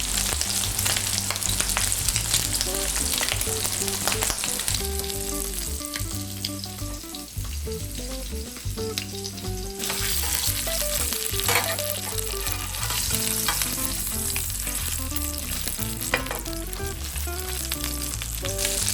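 Shrimp burgers crisping to golden brown in a pan give a loud, continuous close sizzle with crackling and spatter throughout, and a steady high hiss joins partway through.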